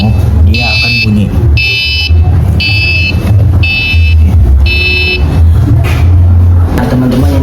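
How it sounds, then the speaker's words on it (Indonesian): Indicator buzzer on a miniature solar-panel house, sounding when its mini battery is full: five evenly spaced high electronic beeps, each about half a second long, over a steady low hum and background voices. "di sini kami juga memasang indikator jika baterai akinya penuh, dia akan bunyi."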